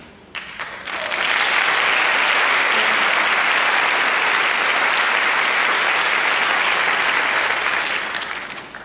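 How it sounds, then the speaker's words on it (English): A large audience at a community action assembly breaks into loud, sustained applause that swells quickly, holds steady for several seconds, then tapers off. "We need that applause one more time."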